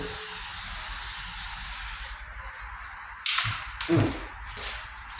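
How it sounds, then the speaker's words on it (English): A steady hiss of spray paint runs for a couple of seconds, then a few sharper spurts and rattles follow, close by, while painting a rust-repaired 1998 Ford Ranger tailgate. "I'm just gonna spray faster and move quicker."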